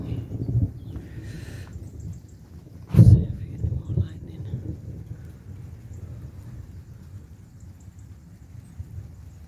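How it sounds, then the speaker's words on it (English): Low thunder from an early-morning storm in Cyprus rumbles in the distance, with a sharper, louder crack partway through before fading back to a quiet outdoor background. "thunder video this morning here in Cyprus"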